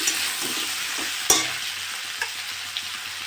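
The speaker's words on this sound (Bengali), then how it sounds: "আমি ভালো করে আলুটা শিমটা ভালো করে ভেজে নিয়েছি" Cubed potatoes and flat beans fry in oil in a pan, giving a steady close sizzle and hiss broken by a few sharp scraping clicks as a spatula stirs them.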